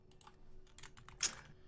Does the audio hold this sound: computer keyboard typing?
yes